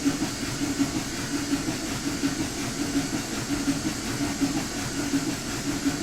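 Steam locomotive 844 running in a train simulator game, a steady continuous rumble with hissing steam and a faint regular chuffing pulse, held at an even level throughout with no talk.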